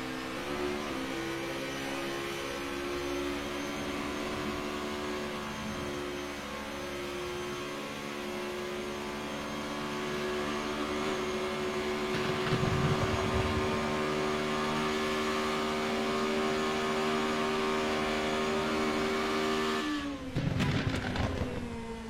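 Onboard at Spa, a Formula Renault 3.5 race car engine screams at high revs in a steady, loud whine, with a brief downshift burst near the start and a sharp gear change near the end, no voices.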